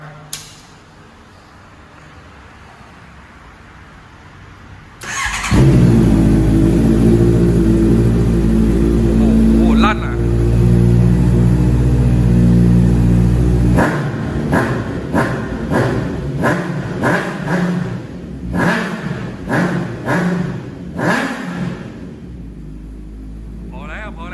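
A 2018 Honda CB650F motorcycle with LED lights and about 7,000 miles starts up into a loud, close idle rumble, then gives a series of sharp throttle revs in quick bursts.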